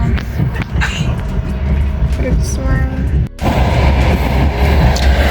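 Continuous rumble of a moving passenger train with rattling and clanking of the carriages on the rails, a voice talking over it, and a brief dip midway.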